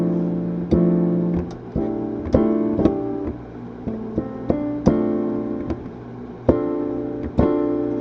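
Guitar strumming a minor chord shape in a lesson, repeated ringing chord strikes at an uneven pace, close and clear, with no talking.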